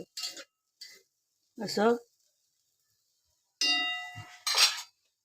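A metal spoon mixes roasted sweet potato with ghee in a pan, making a few scattered clinks and scrapes with quiet pauses between. A person says a short word in between.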